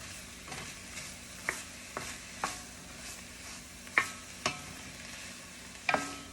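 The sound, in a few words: chopped mushrooms and diced vegetables cooking in pan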